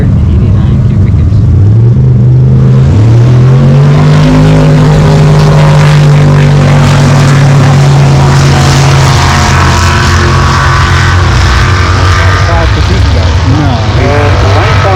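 Two drag racing cars launch down the strip at Greenfield, Nova Scotia, one of them a super stock Chevy Camaro and the other a 589 cubic inch big block. Their loud, roaring engines rise in pitch and fill the whole clip while an announcer talks over them.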